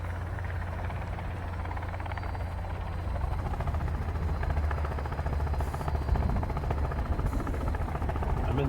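Helicopter in the game Sons of the Forest, a steady close rotor drone and engine hum that keeps going throughout, swelling a little louder partway through, with no talk over it.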